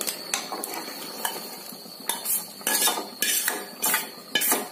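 A spoon stirs pressure-cooked lentils (dal) with added tempering in a metal pot, producing a rhythmic series of scraping, clinking strokes at close range, alone without speech.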